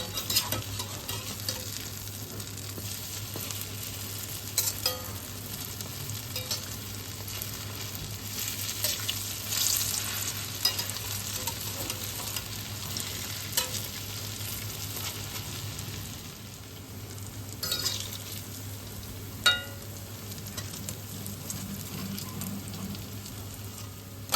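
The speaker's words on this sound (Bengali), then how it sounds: "এদিকে বড়াগুলো আমাদের এক পিঠ ভাজা হয়ে গেছে, আর এক পিঠ উল্টে দিচ্ছি।" Green jackfruit boras frying in a pan, a continuous soft sizzle with occasional light taps and clinks as the fritters are turned, steady and moderately quiet.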